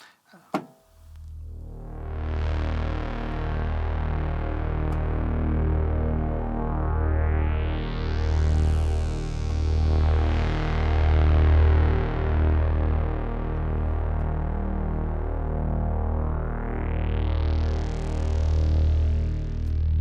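Two layered analog synth drones from an ARP and a Roland, panned differently: a deep sustained bass tone beneath bright resonant filter sweeps that rise and fall repeatedly.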